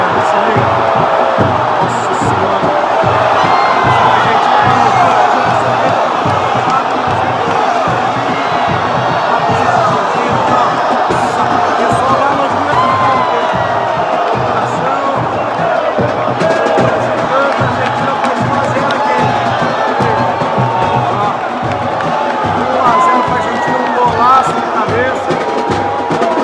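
Vasco supporters in a stadium crowd at Brazil vs Argentina roar and chant in a sustained, loud wall of cheering after a goal, with shouting voices mixed throughout.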